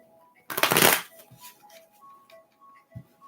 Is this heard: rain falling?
no